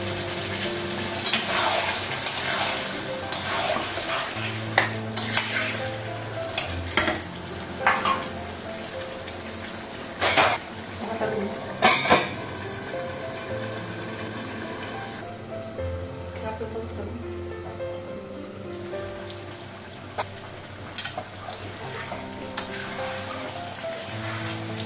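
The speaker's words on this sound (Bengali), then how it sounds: "কষানো হয়ে গেছে, আলু ভালো লাগবে।" Mutton masala frying in a pan in a home kitchen: a soft sizzle with intermittent clinks and scrapes of a spatula against the pan, fairly quiet, with a voice and other sounds faintly in the background.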